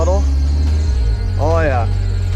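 A turbocharged Mazda Miata engine runs with a steady, deep rumble close by, while a voice talks briefly over it near the start and again midway.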